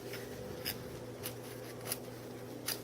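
A fresh, sharp X-Acto knife slices the tail of a Parkzone T-28 model plane in a few brief, quiet scraping strokes spaced about half a second apart, all soft and close.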